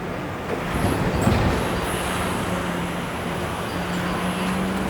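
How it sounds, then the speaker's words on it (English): A 501 Queen Street streetcar rolls past on a Toronto street, a steady broadband rumble of wheels on rail with a faint high squeal, continuous and fairly close, no voices. "That's the 501 Queen Street streetcar that just went by."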